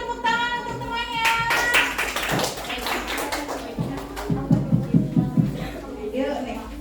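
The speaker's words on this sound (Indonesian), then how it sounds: "kasih tepuk tangan untuk temannya" A class of schoolchildren claps for a classmate, a burst of quick close hand claps at the end following loud children's talk and voices filling the room.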